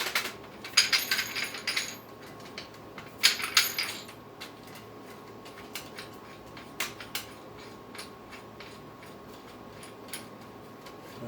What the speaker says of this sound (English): thread the attached mounting bolt into the hole on the bottom of the equatorial mount